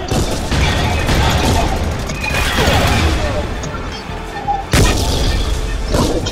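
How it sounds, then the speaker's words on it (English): A bomb blows up in the zombie video game ZMR, giving a loud rumbling blast among heavy booming gunfire and crashes that fade briefly, then a fresh sharp burst near the end. "Oh shoot, there's a bomb."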